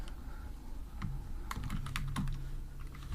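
Typing on a computer keyboard, a quick burst of light clicks and taps close up, irregular in rhythm, over a low background hum with no voices.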